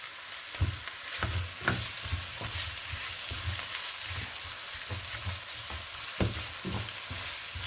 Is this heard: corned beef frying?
yes